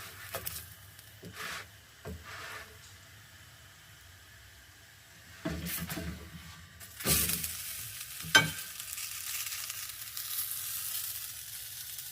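Sarva pindi, a rice-flour flatbread, cooking on medium flame, giving a faint, low sizzle broken by a few short scraping bursts and a louder stretch of frying noise in the second half.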